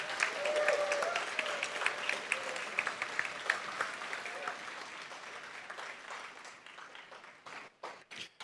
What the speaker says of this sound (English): Let's give another big round of applause for all of our distinguished clinical interns and our cooperating teachers.